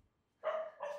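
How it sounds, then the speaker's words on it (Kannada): A pet dog barks indoors at home, giving two close, loud bark bursts after a moment of quiet. "ಮನೇಲಿ ನಾಯಿ ಇದೆ ಅಂತ ಭಯ ಎಲ್ರಿಗೂ,"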